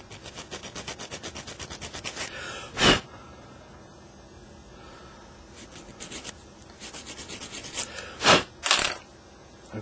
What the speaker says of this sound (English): If there's any residue, just use a nail file to file them flat.